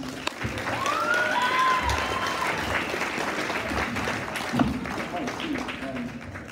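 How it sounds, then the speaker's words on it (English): An audience at the DigiMedia red carpet event gives a sustained round of applause, a dense wash of clapping heard at moderate distance while a voice carries over it. "Can we give a big round of applause to the DigiMedia class president, Noah Williams"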